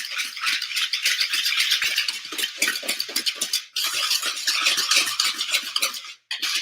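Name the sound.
whisking granulated sugar together in a bowl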